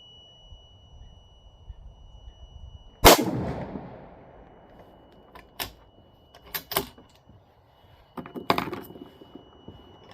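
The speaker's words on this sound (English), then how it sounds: "I'm going to do a 5-shot group with both of these next 2 loads." Sharp rifle shots from a .308 Remington 700 firing Hornady 178 gr AMAX handloads: one loud report opens, followed by several further cracks spaced irregularly, each ringing out with a brief outdoor echo.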